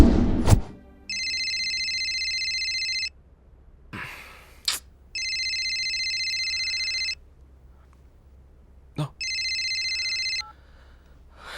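A telephone rings in three long electronic bursts separated by pauses, loud and close, with a few sighs and breaths between the rings.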